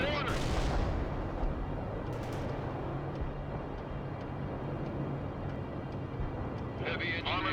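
Heavy gunfire and booming artillery-like blasts roll through a war video game battle, a loud sustained barrage with sharp bursts near the start and end, while voices talk over it.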